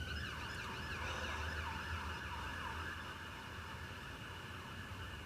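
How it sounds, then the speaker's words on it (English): An ambulance siren wails with a repeating rising and falling pattern as it passes along a main road near a hospital, moderately distant over steady traffic rumble. "I live right next to a main road where all the ambulances go past because I'm near the hospital"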